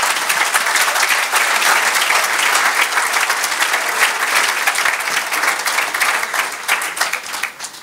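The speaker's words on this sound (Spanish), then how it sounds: "No sé si se han oído aplausos" Sustained audience applause fills a conference hall at a university teachers' forum, steady dense clapping throughout with no voices over it.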